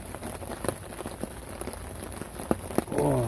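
Steady rain patters on a tent at a campsite, a dense hiss of drops with a few sharper individual taps standing out close by.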